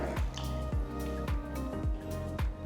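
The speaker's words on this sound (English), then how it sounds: "Now this is a bit thick in texture, so I'm adding a little more water here." Water poured into a thick radish sambar simmering in a kadai, a series of about five wet splashy drips at a steady rhythm over a low, continuous hum, fairly close.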